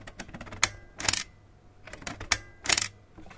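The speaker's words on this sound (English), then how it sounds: "We click the shutter." A few sharp mechanical shutter clicks and whirring snaps from a Printoss instant photo printer, close up, in quick irregular bursts with quiet gaps between.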